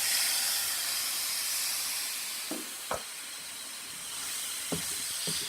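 Mince sizzling in a pan after ginger and garlic paste for keema kachori, a steady hiss with a few faint clinks of stirring, no talk.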